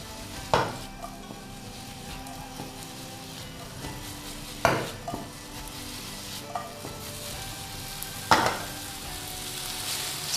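Green beans frying in a pan with oyster sauce and a splash of hot water, a loud continuous sizzle broken by three scraping stirs of the spatula, close and without talking.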